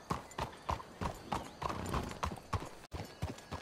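Horses' hooves clip-clop in the video game Red Dead Redemption 2, a steady rhythmic series of close, moderately loud hoof strikes on ground, with no talk.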